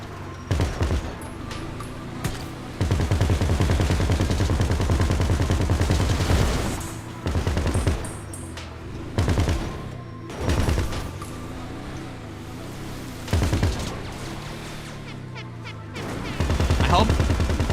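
Tactical SMG gunfire in GTA Online, loud bursts of rapid automatic fire broken by short gaps, with someone talking over the shooting in between and other combat sounds around it.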